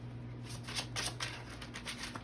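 Tarot cards shuffled and drawn in a brief, soft burst of papery riffling and flicking over a steady low hum.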